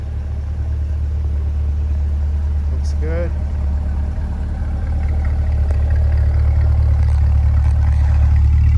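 A 2021 Corvette Coupe 2LT Z51 idles with a steady, deep engine rumble that swells slightly toward the end, while someone briefly speaks nearby.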